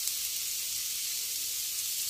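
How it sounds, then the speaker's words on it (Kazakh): Onions frying in a pan, a steady hissing sizzle at moderate volume without interruption or voices. "Содан мына пиязды табаға қуырып жатыр"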